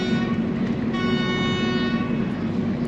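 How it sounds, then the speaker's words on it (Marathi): The Chennai Superfast Express pulls out of Kurduwadi railway station, a steady rolling rumble with a sustained horn tone riding over it throughout, loud and close. "7:20 आपली ट्रेन निघालेली आहे कुरुडवाडी रेल्वे स्टेशनवरून"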